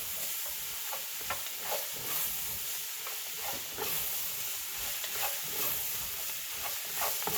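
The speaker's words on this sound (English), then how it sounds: "we'll start to saute the okra the same way as we do the others, and we just do that by spinning them around in the pot" Okra sautés in a hot pot, a steady close sizzle and hiss broken by repeated scraping stirs as the pods are turned, with no voices.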